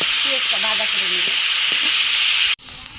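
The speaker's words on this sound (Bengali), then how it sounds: "এই তেলটা দিয়ে এখন পেঁয়াজটা ভাজা করে নেব।" Onions fry in pangas fish oil with a loud, steady, close sizzle, and faint voices talk underneath before the sound cuts off abruptly near the end.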